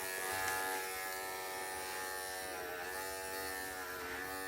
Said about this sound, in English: we can stretch it out and just shave up to that line or shave away from that line